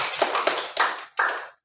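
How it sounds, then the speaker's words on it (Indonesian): A class of students claps hands together in a few short bursts, close and fairly loud, each ragged group of claps separated by brief gaps before stopping into silence. "Guru berkata silahkan tepuk tangan."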